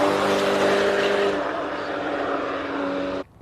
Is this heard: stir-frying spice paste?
no